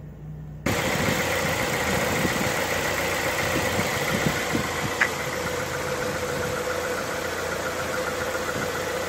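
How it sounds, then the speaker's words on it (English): A car engine starts and settles into a steady idle, left running while hooked by booster cables to a drained deep cycle battery; a loud, constant mid-pitched drone with faint vibration and no talking. "let your car run for about 10 minutes with booster cables"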